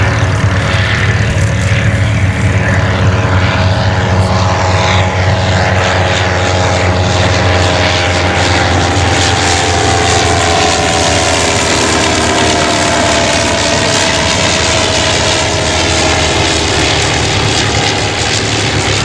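A Sopwith Triplane flies at an evening airshow at Shuttleworth, its propeller engine droning loud and close throughout, with the pitch slowly shifting as it passes.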